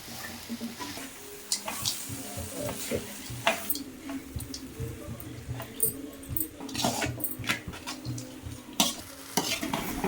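Flattened rice upma (atukula upma) being stirred in a pan, repeated scraping and stirring strokes with a soft sizzle underneath, moderately close and continuous, with faint background noise.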